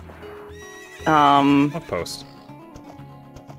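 A horse whinnies loudly once while being ridden through the archery area in The Legend of Zelda: Ocarina of Time Master Quest, a short bright neigh with light hoofbeats, surrounded by players talking.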